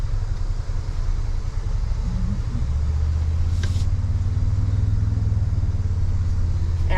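A Toyota Tundra engine rumbles at a steady low idle-like drone as it crawls along an off-road trail at the Windrock off-road event, close and continuous with a brief mechanical clink partway through.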